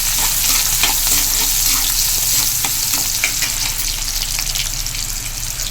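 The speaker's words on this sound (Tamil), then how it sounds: "கருவேப்பிலைக்கு அடுத்தது வெங்காயம் போட்டு இதை போட்டு நல்லா வதக்கிடும்" Onions and curry leaves sautéing in a pan for an egg curry, a loud continuous crackling sizzle with spatula scrapes dotted throughout, close and steady with no talk.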